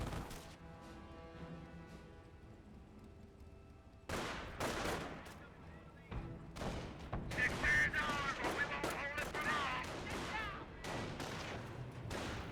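Rifle squad gunfire in a Company of Heroes match, with a 222 armored car involved in the fight: several bursts of shots crackle and overlap in mid-distance, under game effects and a voice talking over them.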